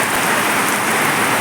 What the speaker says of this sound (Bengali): বৃষ্টি আমাদের উঠানটা ভরে গেল জলে। কি বৃষ্টি দিচ্ছে।